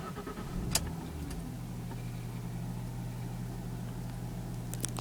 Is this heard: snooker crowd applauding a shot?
no